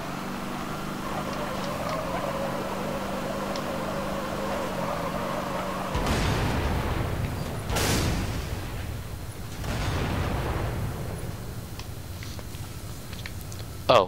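A Warthog tank rolls through a Halo: Reach forge map set on an aircraft carrier, its steady engine drone giving way to three heavy booming blasts a couple of seconds apart, loud and close.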